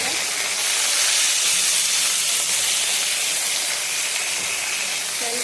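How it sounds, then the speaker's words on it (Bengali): Bitter gourd and neem leaves frying together in hot oil make a loud, steady, close hiss that holds throughout without a break. "দুটো একসাথে ফ্রাই করে নামিয়ে নেব।"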